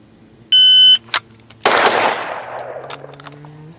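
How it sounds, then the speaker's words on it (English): A shot timer beeps, then one loud close pistol shot during a practical shooting draw drill, followed by a long echoing decay and fainter distant shots. "And getting draw weapon, acquisition, fire."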